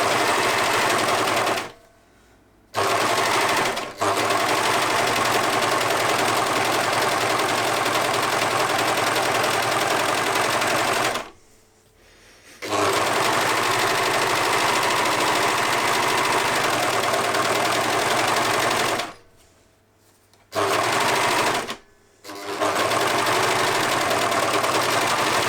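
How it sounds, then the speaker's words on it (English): An overlocker stitches Scuba fabric for a striped vest in long steady bursts of fast, even mechanical whirring, close and loud, broken by a few short pauses. "So easiest way to sew this Scuba fabric is overlocker."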